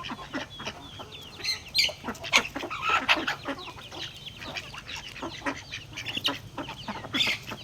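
Several chickens cluck and squabble while being fed grain, with repeated close, overlapping clucks and short squawks over a quiet background throughout.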